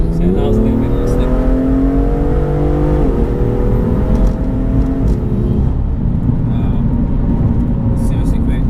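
A tuned 430bhp BMW M2 GTS engine revs hard from inside the cabin, pitch climbing through a gear, dropping at a shift, then climbing again, loud and droning with road rumble, and a voice talking over it.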